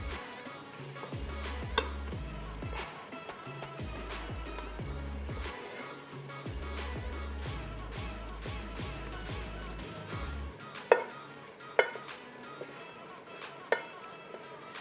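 Greens hit a pan of frying onions and spices for a keto Persian herb stew, giving a soft sizzle with scattered stirring clicks and occasional sharp knocks over a low steady hum.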